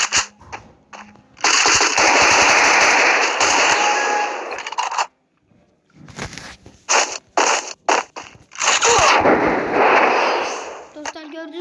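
Scar-L assault rifle fire in a battle royale video game, with long sustained bursts of loud rapid shots broken by short gaps and scattered single cracks, while someone talks over the action.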